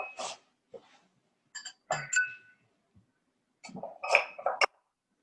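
A big ice cube set into a cocktail glass, several sharp glassy clinks and knocks in scattered bursts with quiet gaps between, close up and without talk.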